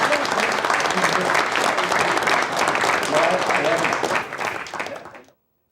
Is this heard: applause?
yes